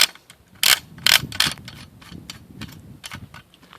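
Parts of a Winchester 12-gauge shotgun being unscrewed by hand, giving close metallic ratcheting clicks and a few louder clanks, irregular and brief with no talk.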